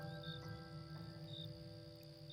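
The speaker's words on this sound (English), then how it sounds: "listening to the orchestra of crickets fill the garden with their symphony of sound" Crickets chirping in a garden on a warm night, with a steady, faint high trill running continuously and calmly.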